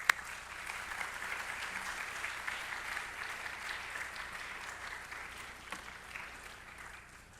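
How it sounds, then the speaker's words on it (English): A lecture hall audience in Korea gives steady, moderately distant applause to welcome an Oxford professor's keynote on C.S. Lewis, an even wash of many hands clapping that tapers slightly toward the end. "Let's welcome him with a big round of applause."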